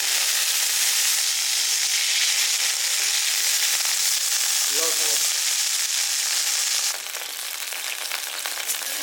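Vinegar hits a little hot oil in a wok, raising a loud, steady hiss of sizzling that runs the whole time and drops slightly near the end.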